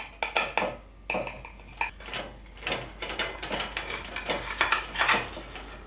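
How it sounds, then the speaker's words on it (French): A knife cuts a slice from an Italian-style potato galette, giving a run of crisp clicks, taps and scraping cuts against a plate or pan, close and moderately quiet. "on va se couper donc une jolie part"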